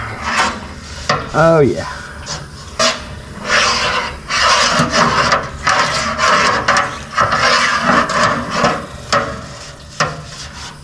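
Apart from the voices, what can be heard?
scraping inside a 6-71 Detroit Diesel engine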